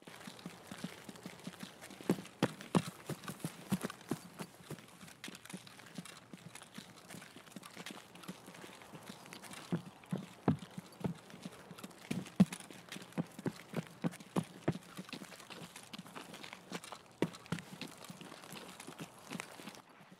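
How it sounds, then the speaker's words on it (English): Footsteps of a player character in the video game Escape From Tarkov, walking over changing ground surfaces. The step impacts fall in a steady, fairly quick rhythm, close and moderately loud, with no talk over them. "Footsteps make different sounds based on the ground you walk on."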